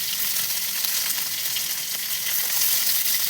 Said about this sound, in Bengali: বেশ লাল লাল করে ভেজে নিতে হবে।